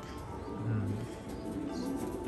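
A healthy pigeon coos close by in a low, drawn-out call that rises once to a clearer moan, against a steady background hum, with no speech.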